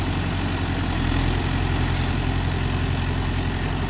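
A Mahindra Yuvo Tech Plus 585 DI tractor engine runs steadily with a deep, even throb, staying loud and close throughout with no voices.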